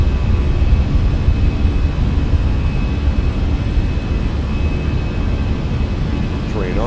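Fenix A319 airliner jet engines roar steadily at takeoff power in a flight simulator cockpit, a dense broadband rumble filling the whole stretch, with a faint tone sweep near the end.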